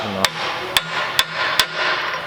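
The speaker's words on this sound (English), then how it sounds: "I'm just going to give it light taps and make sure it's" Four light metallic hammer taps on an axle socket while seating 36mm hubs on a 1995 Integra, spaced roughly half a second apart, each a crisp sharp tick over a steady background hiss.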